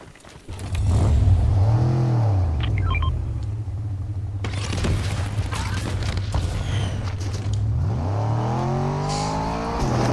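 A car in Fortnite drives and revs with a low engine rumble that swells and dips as it speeds up and slows, holding steady for long stretches with a few louder revs and bumps.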